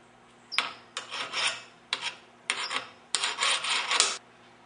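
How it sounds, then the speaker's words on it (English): Thread of a bolt being cut down with cutting oil while installing an engine lift on a 2003 Jeep TJ Rubicon: close, raspy metal-on-metal strokes in four short bursts, with no talking. "It has to be cut down, so I'm going to put a little bit of cutting oil on it."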